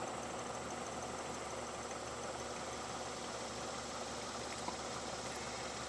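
A warmed-up Geo car engine idles steadily with all accessories off, a constant low hum and faint mechanical ticking running evenly throughout at moderate volume, with no talking.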